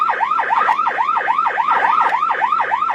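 An ambulance siren wails loud and close in rapid, rising-and-falling sweeps, about three cycles per second repeating evenly throughout, with no voices over it.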